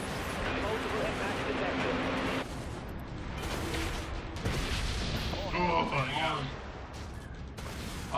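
Heavy booming broadside cannon blasts in the video game Dreadnought rumble under a constant wash of game noise, with excited voices talking over the continuous barrage.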